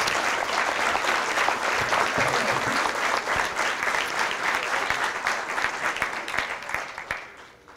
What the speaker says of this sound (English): just one more final round of applause for all of our inductees tonight